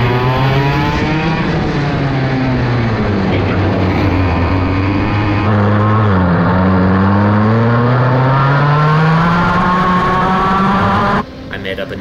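Racing kart engine in a heat race at a TSRS event in Amarillo, heard up close and loud, buzzing continuously as its pitch dips and climbs through corners, then cutting off sharply near the end.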